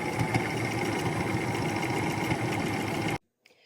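A sewing machine runs steadily, stitching the seam of a T-shirt quilt with a dense, even mechanical rattle for about three seconds, then stops abruptly, leaving near silence and a faint click.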